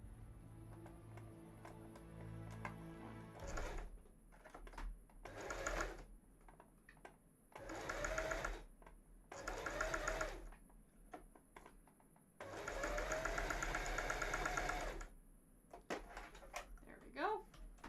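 A sewing machine stitching a seam on a cosplay costume piece, several bursts of rapid whirring stitching separated by short pauses and handling clunks, close and clear.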